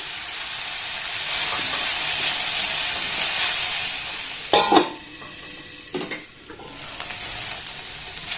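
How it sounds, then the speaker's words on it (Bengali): Capsicum and other vegetables frying in a pan, a steady close sizzle with two sharp bursts of stirring and scraping around the middle, then settling back to an even hiss. "আবারও সমস্ত উপকরণ ঢাকা দিয়ে একটু নাড়াচাড়া করে ভেজে নেব"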